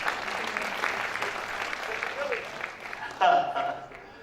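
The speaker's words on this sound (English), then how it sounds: "We should give Mr. Thigpen a round of applause." An audience claps for Mr. Thigpen, a moderate, scattered patter of applause heard fairly faintly, with voices talking over it and a brief louder burst near the end.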